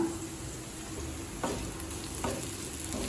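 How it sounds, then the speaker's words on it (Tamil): Onions with grated coconut sautéing in a pan for onion chutney, a soft continuous sizzle with a couple of light spatula scrapes, close and alone without talk. "தேங்காய் துருவல் சேர்த்துட்டு லேசாக வதக்கினா போதுங்க"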